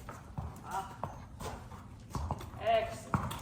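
A horse in full gear doing in-hand groundwork takes a few slow hoof steps, with soft irregular clip-clops close by and a person talking over them.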